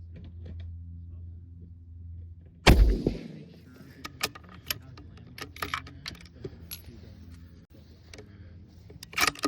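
A single sharp, loud 6.5 Creedmoor rifle shot firing a Barnes LRX copper bullet cracks after a low idle hum, followed by scattered clicks and faint handling noises.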